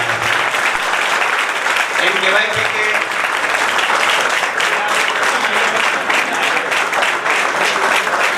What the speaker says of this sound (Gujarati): તાળીઓથી આપણે વધાવી